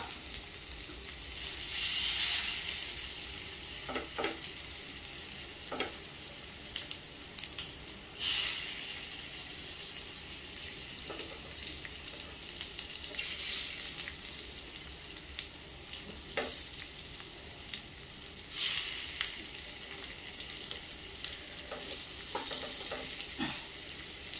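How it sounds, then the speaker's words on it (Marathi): Alu vadi pieces fry in oil over a low gas flame, a steady soft sizzle running throughout, broken by occasional stirring clatters and brighter hissing bursts; no voices. "आणि मंद गॅसवर आपण ती फ्राय करून घेऊया।"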